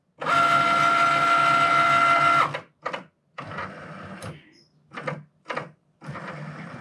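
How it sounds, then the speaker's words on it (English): A Cricut Maker cutting machine cutting paper boxes, with a steady whirring motor run followed by a series of short, intermittent mechanical bursts and carriage movements, close and fairly loud. "it's going to cut each one of these boxes out all around the little folds and everything perfectly for me"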